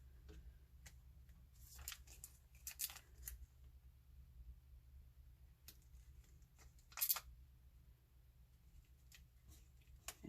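Scissors snipping paper during die-cut card making, a few quiet close snips and rustles scattered over a low steady hum, with no voices.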